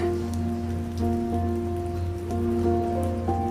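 Steady rain falling on surfaces in a grey Edinburgh-like setting within the South of the Circle video game, a continuous patter under a low hum and sustained musical tones.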